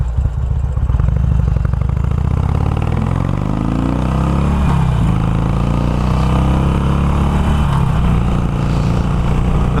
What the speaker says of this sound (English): the exhaust is not so annoyingly loud that I'd even think about wearing earplugs